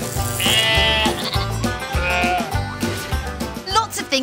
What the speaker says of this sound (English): Wool comes from sheep.